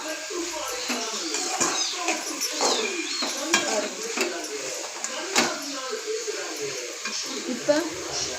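Chopped greens stems stir-fried in oil in a pan, with a spoon scraping and clinking against the metal over a soft sizzle, in irregular close strokes while a person talks over it.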